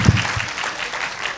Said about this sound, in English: Please, can you give them a round of applause again?